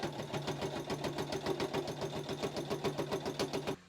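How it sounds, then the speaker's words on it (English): Sewing machine stitching a quick edge seam along the top of a Japanese knot bag, a steady fast mechanical whirring with even rhythmic needle clatter, close and fairly quiet, running alone. "I'll run a quick edge stitch down the top"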